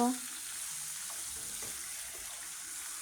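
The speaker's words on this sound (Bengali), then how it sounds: "তেজপাতা এলাচ দারচিনি এটা গরম তেলে দিয়ে দেবো আস্তে আস্তে অল্প আছে ভেজে নেব" Bay leaf, cardamom and cinnamon drop into hot oil for a country chicken curry, a brief burst at the start settling into a faint, steady sizzle with no talking.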